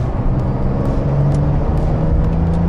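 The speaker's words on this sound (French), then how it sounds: "on entend le flatis, on entend cet échappement qui chante" Porsche 992 Carrera 4S flat-six in sport mode with an automatic gearbox, its exhaust giving a steady, loud in-cabin drone and low tonal hum with no pauses, heard from inside the car.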